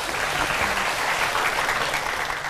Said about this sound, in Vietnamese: cho một tràng pháo tay khích lệ được không?